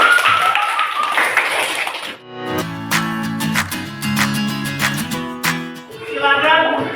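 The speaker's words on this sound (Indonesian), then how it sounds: "Tepuk tangan buat Farah." Applause for Farah at a teacher-training performance exam session: a brief burst of dense clapping at the start gives way to music.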